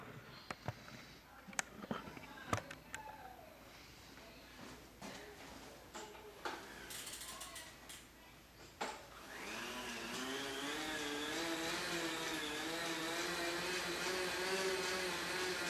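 A few clicks and knocks, then a magnetic bike trainer's steady mechanical whir builds and runs continuously with a rising hum, moderately loud and close.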